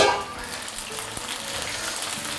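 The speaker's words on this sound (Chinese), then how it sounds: "我们开始下锅复炸一次" Fish fillets drop into very hot oil at full heat for a second deep-fry, giving a steady broadband sizzle that swells at the start and holds fairly loud and even throughout, with no talk.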